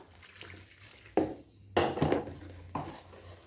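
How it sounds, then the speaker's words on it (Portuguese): Water is poured into a bowl of sugar and bread yeast for homemade oat bread, giving a few short splashing bursts against the bowl, close and fairly quiet. "Acrescento a água."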